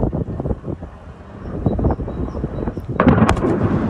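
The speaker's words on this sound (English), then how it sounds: "Ooh, nice explosion there." Explosion from a drone strike, a sudden broad rumbling burst near the end that rises out of quieter, muffled background noise.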